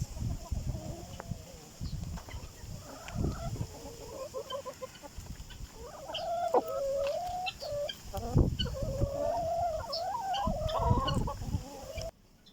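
Several chickens cluck and murmur nearby in an irregular, busy chatter, with occasional louder squawks over a quiet background.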